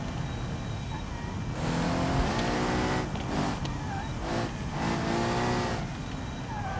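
A racing car's engine in a driving video game revs and strains steadily for several seconds, its pitch rising and dipping as it accelerates over rough drops, loud and close throughout.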